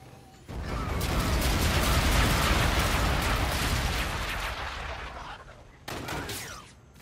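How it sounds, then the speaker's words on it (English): A friendly artillery bombardment in Call of Duty: Infinite Warfare: a long, roaring barrage of dense, rumbling blasts that swells, fades, then returns briefly with another burst. "Friendly bombardment incoming."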